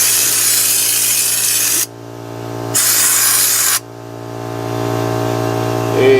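Fluid Film rust-proofing spray blasting from a pressurized sprayer onto the underside of a 2011 or 2019 Ford Edge, two loud steady bursts of hiss with short pauses between, over a constant low hum and no talk.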